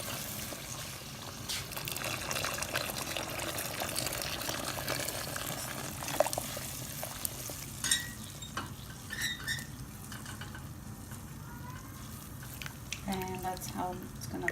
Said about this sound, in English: So we're adding some more warm water.